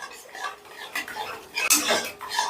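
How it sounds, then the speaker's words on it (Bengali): Yogurt being stirred into spice masala in a pan for a vegetarian potol korma, with a close, irregular metal spoon scraping and clinking against the pan for a few seconds and no talk. "এবারে টক দইটা মশলার সাথে বেশ ভালো করে মিশিয়ে তারপরে গ্যাসের আঁচটা বাড়িয়ে কষতে হবে"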